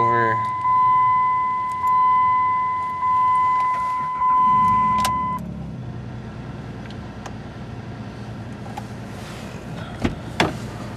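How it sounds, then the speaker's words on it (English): A Jeep Liberty engine cold-starts in winter: the starter cranks in rhythmic pulses for about five seconds, then the engine catches and settles into a low, rough idle. "We're gonna do a cold start."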